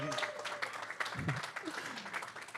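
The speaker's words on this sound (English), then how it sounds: "Let's have a round of applause" Applause from an audience, steady broadband clapping for a couple of seconds with some voices mixed in.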